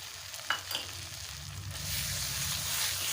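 Ginger-garlic paste and chili-cumin paste frying in a pan, a soft sizzle with a couple of clunks near the start, then swelling into a louder, steady hiss for the last second or so.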